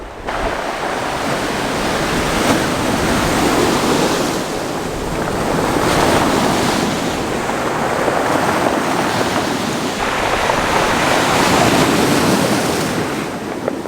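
Ocean waves break and crash on the shore at sunset, a loud, continuous roar of surf swelling and easing in slow surges, with wind buffeting the microphone.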